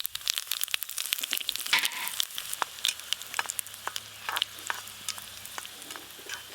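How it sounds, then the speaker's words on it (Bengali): Dried red chillies and whole cumin crackle and sizzle in very hot oil, a steady close frying hiss broken by frequent sharp pops and spits throughout. "এই যে দিয়ে দেবো শুকনো লঙ্কা।"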